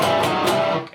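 Heavily distorted electric guitar riff, a minor third note dipping in and out of a neighboring tone, loud and unaccompanied for about a second.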